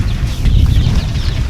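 Farm chickens at feeding time, a loud close jumble of low clucking from the flock, continuous throughout.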